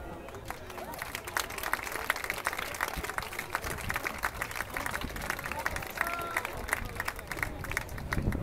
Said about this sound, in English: And applause for yourself